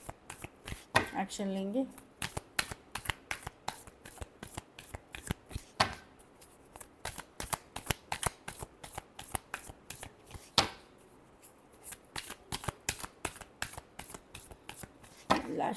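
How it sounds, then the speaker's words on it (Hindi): Tarot cards are shuffled by hand in quick, crisp riffling bursts and sharp slaps, repeated many times in an uneven rhythm, close and clear, while someone talks softly at the start. "दो तीन कार्ड्स थे, एक शफल और करेंगे।"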